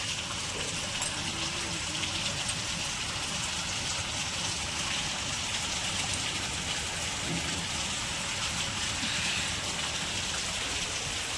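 Steady, dense rain hisses outside without letup, an even, unbroken downpour with no voices.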